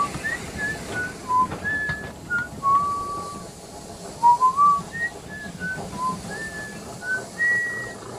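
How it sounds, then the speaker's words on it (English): A melodic whistled tune for Thomas the Tank Engine waiting at a station, made of short rising and falling notes with brief pauses between phrases, clear and fairly close over a soft background. "As he waited, he whistled a little too."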